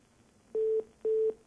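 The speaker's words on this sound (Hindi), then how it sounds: "फोन कट गया है।" Telephone line tone after a call disconnects: two steady beeps, each about a quarter second long with a half-second gap, moderately loud over faint background hiss.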